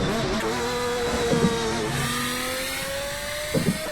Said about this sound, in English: drowned out by the insanely big V12